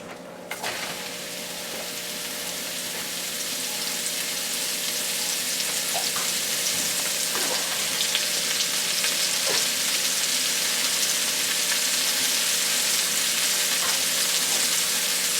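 Chopped mushrooms sizzle in hot oil in a pan while chicken marsala is being made: a steady, bright frying hiss that swells slightly after the food goes in and continues evenly, with faint stirring clicks and no talking.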